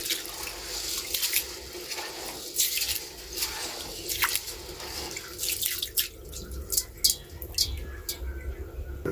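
Three pounds of rice get washed for Jamaican curry goat, with running water, sloshing and wet squishing of grains as hands stir them close by in the pot.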